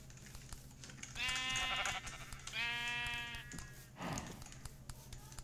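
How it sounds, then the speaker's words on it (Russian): Sheep in Minecraft bleat twice in a row, each call a wavering, nasal tone lasting under a second, with a third softer blurt after a pause, all over a steady low game background hum. "Тут овцы."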